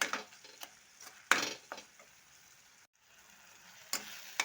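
Tomatoes soften in a pan for an egg gravy, with quiet sizzling broken by a few sharp scrapes and clinks of a spoon against the pan, close and moderate, with a brief pause midway.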